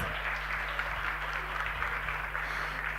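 A room full of people at a Children's Day celebration applauds, a distant, steady patter of clapping over a low electrical hum, with no voices standing out.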